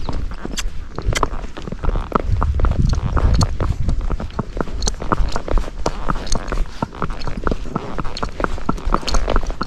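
Fox Trotter horse ridden down a road in gait, its hooves striking in a quick, even broken rhythm, close and continuous, with some rustling and no talk.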